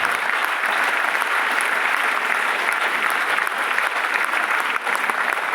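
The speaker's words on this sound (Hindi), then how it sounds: "जोरदार ताली चाहूंगा हमारे सबके टीसी सर के।" A large audience at a program in Guwahati claps loudly and continuously, a thick, steady wash of applause that barely varies throughout.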